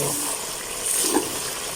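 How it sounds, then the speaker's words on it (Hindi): Water is added to chicken frying in a pan for black pepper chicken korma gravy, a soft continuous hiss and sizzle with a faint splash partway through. "अभी हम डाल देते हैं थोड़ा सा पानी ग्रेवी के लिए।"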